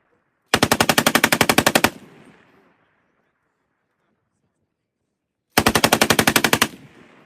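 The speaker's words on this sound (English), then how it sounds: "going to the range and squeezing off a few rounds from a machine gun" Machine gun fired at a shooting range in two loud, rapid bursts of about a dozen rounds each, a pause with fading echo between them.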